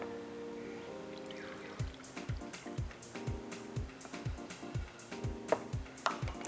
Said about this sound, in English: And that just needs half a cup of water.